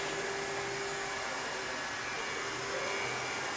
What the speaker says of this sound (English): We can fit sidewalls up to 100mm high using two different styles of hot air welding.